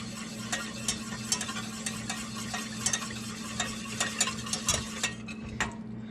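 A spoon stirs frozen gravy in a pan for a poutine, scraping and clinking in a steady run of short strokes over a low constant hum, close and moderately loud.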